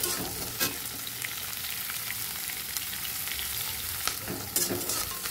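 Chopped onion with cloves, cinnamon and cardamom frying in a pan, a steady close sizzle with scattered pops and crackles.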